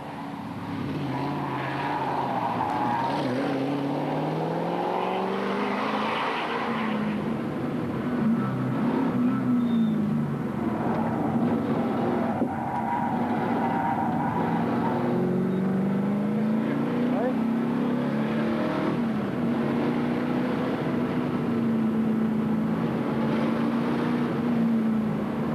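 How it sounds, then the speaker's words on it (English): A Ford Mustang V8 rally car runs flat out on stage 3 of the 2000 London to Sydney Marathon Rally: a loud, close, continuous engine roar whose pitch rises and falls as the revs change. "V8 power is the order of the day as the Ford Mustang of Terry Daly and Bob Brill take the second fastest time in stage 3 of the rally."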